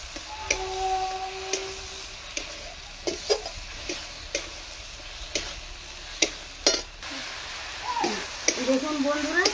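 Ginger, garlic and onion sauté in oil in a pan with a soft steady sizzle, punctuated by sharp clicks and scrapes of a spatula stirring, close by, with a voice speaking near the end.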